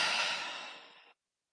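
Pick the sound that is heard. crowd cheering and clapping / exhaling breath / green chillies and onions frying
exhaling breath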